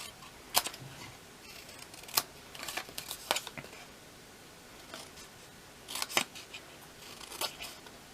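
Scissors notching Stampin' Up! designer series paper for a small gift box: scattered crisp snips and clicks in small clusters, close and quiet, with faint handling noise between cuts.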